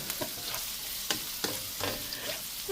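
Garlic and onion sauté in a hot pan for chopsuey, a steady close sizzle broken by a few sharp scraping stirs of the spatula, with no voices.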